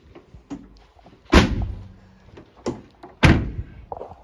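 Doors on a 2017 Ford Transit Connect van shut twice with solid, close thuds about two seconds apart, preceded by lighter latch clicks and handling noises.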